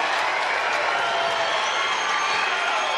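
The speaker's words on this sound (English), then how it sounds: "This is electrifying for the crowd. They're jumping to their feet now." A crowd at the 2022 Mosconi Cup pool match erupts after a golden break on the 9-ball, with loud, sustained cheering and applause filling the hall from start to finish.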